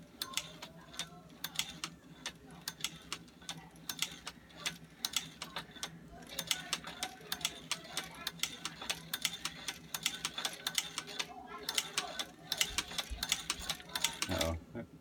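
A hand-cranked cobbler sewing machine stitching a handle onto a ski bag, with rapid mechanical ticking and clacking in an uneven run and faint voices in the background.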